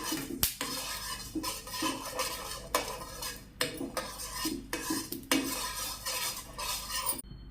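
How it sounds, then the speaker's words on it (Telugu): Coriander seeds dry-roasting in a pan for a Tamil Nadu style sulaimani masala tea, giving a steady, close rattle and scrape of seeds and spatula against metal throughout, with no talking. "ఇప్పుడు కొన్ని ధనియాలు తీసుకుంటున్నాను, వీటిని కూడా రోస్ట్ చేసుకుందాం."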